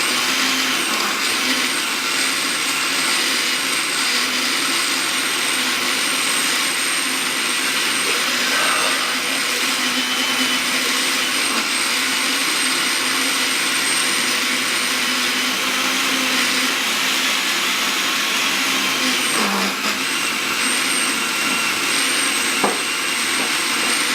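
A home kitchen blender, a middling rather than high-end model, runs steadily at high speed mixing ingredients, a loud continuous whir that holds for the whole stretch with only slight shifts in pitch and no voices.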